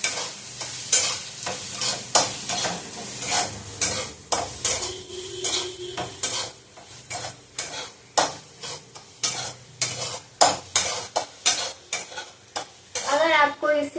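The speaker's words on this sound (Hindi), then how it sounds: "मैं इसमें 2 चम्मच, लगभग 2 बड़े चम्मच घी डाल रही हूँ इसमें।" Besan stirred in ghee for laddu gives a rapid run of close scraping strokes against the pan, rhythmic and repeated over a soft, continuous sizzle.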